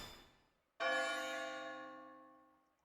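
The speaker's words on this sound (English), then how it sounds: "Ring the bell" A single bell in Xenoblade Chronicles X strikes once with a bright metallic clang, then rings on in a long, clear, slowly fading tone after a brief near-silence.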